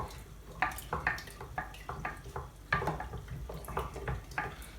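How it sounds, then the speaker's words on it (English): Instant yeast being stirred into homebrew tepache, a fermented pineapple drink, with a spoon clinking and scraping against the container in a steady run of close, light strokes and liquid swishes. "And give that a good mix around."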